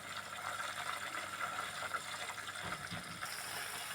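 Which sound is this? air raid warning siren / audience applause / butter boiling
butter boiling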